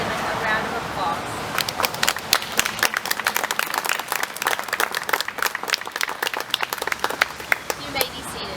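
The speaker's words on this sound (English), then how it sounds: "Please give these men and women a round of applause." An audience applauds veterans at a Daughters of the American Revolution chapter event, the clapping swelling from scattered hands into sustained, dense applause under faint background voices.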